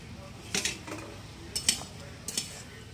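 A metal lid lifted off a cooking pot of mixed vegetable curry with prawns, jackfruit seeds and stems, giving a few short, close clinks and scrapes at intervals in a quiet kitchen.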